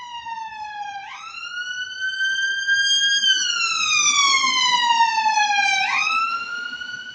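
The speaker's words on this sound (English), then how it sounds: "It's the ambulances doing criminal deeds again, noise campaigns." A wailing ambulance siren drives past, its tone rising and falling in long sweeping cycles, loud and close throughout over low traffic rumble, with no talking.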